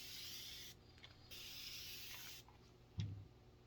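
A spray bottle mists water onto mineral paint in a few short hissing bursts, close and fairly quiet, followed by a soft knock.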